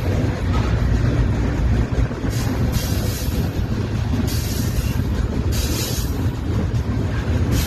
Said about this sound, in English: This train has got to go this slow to go climb up the hill